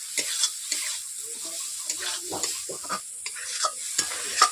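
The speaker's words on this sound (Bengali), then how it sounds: "এইভাবে আমি ঢোকাগুলোকে মশলার সঙ্গে কষিয়ে নিচ্ছি" Pangas fish dhoka pieces sautéed with spices in a pan make a steady low sizzle, with repeated scraping strokes of a spatula stirring them throughout.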